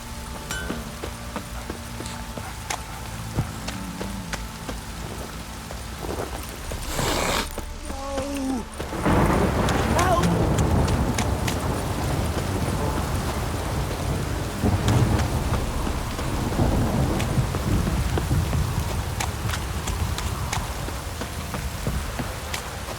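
A heavy downpour in The Witcher 3 with a deep thunder rumble rolling in partway through, then steady, dense rain hissing on surfaces close by.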